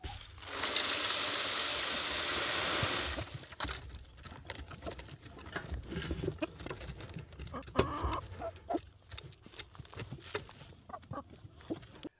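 Backyard chickens raised for meat cluck and peck nearby, soft irregular clucks mixed with scratching and pecking patter, preceded by a few seconds of loud rushing noise.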